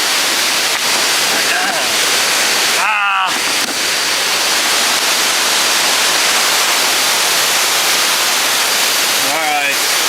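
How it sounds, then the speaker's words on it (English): A 150-meter waterfall at Lang Sang National Park roars as a steady, loud, broadband rush close by, with brief whistles or chirps cutting in twice. "I think that's 150 meters for this waterfall"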